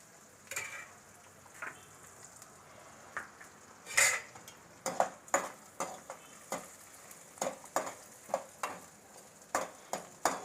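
A utensil stirs urad dal and chana dal roasting in butter in a pan, giving a string of close, distinct scraping clicks and clinks spaced about half a second apart over a faint sizzle.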